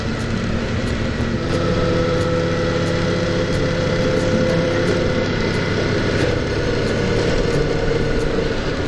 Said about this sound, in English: with his burbly exhaust.